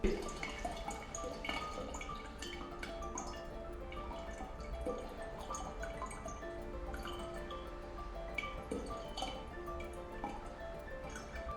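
Water drips from the tap of a groundwater model in a classroom setting, with quiet, irregular ticking drops over a low background hum and faint water noise.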